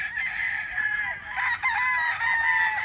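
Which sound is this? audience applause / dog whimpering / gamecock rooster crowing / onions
gamecock rooster crowing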